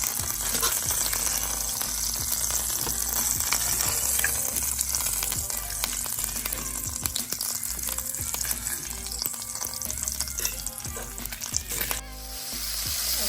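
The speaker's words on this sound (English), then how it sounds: "here we have our bacon, and we're going to make sure that our bacon is nice and crispy" Bacon frying in oil until crispy in a pan, a loud continuous close sizzle with crackling pops and occasional stirring scrapes, no voices.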